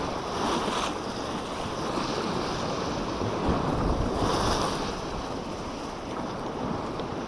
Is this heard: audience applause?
no